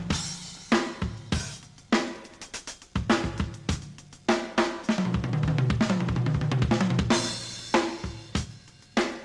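A drum set plays a fill in 16th note triplets within an Afro-Caribbean groove, close and busy, with sharp repeated hits, a dense rapid roll through the middle, and cymbal wash, without talk.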